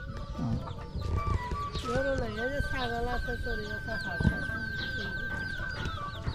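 Chickens cluck repeatedly in a rural village yard on a Bangladeshi char island, with short clucks and calls close by over a low outdoor background, and a voice speaks briefly.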